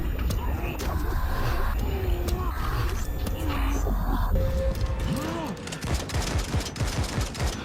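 Gunfire in a Metro video game crackles as dense overlapping shots and bursts amid a noisy game soundscape, with voices talking over parts of it.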